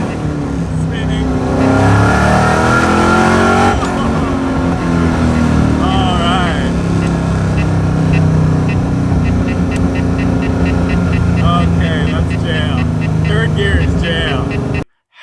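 A Chevrolet Camaro ZL1 engine roars at high revs on a dyno, holding a steady loud drone with rising and falling pitch sweeps throughout before cutting off abruptly at the end.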